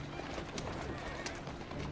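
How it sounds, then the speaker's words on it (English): Horse-drawn carriage racing through London streets in Assassin's Creed Syndicate: quick, rhythmic clip-clop of hooves over a rumbling, rattling carriage, close and steady. "The smaller the carriage, the lighter it should be, so the horse should go faster."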